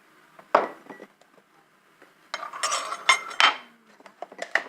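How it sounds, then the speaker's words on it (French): Tablespoon scooping flour into a mug for a mug cake, with a few light scrapes and clinks of metal against ceramic, close and quiet, separated by short pauses. "il vous faut une cuillère à soupe de farine"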